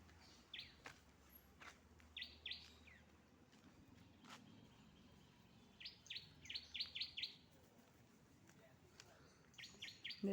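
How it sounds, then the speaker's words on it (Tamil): Sparrows chirping from a neem tree in a mango garden: short clusters of quick, high chirps come in scattered bursts, fairly faint over a low steady background hum, with no talking. "இந்த சிட்டுக்குருவி இந்த மரத்தில் கூடு கட்டியிருக்கு."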